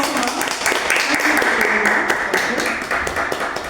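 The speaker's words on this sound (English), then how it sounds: "Let's give a round of applause for ma'am." Dense, steady applause from an audience at a Toastmasters club meeting fills the room, swelling near the start and tapering slightly toward the end.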